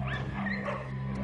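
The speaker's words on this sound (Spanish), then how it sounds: "grandes manadas de perros callejeros viven, comen y se pelean en los vertederos de basura" Stray dogs whimper and yip in short high whines close by, over a constant low rumble of background noise.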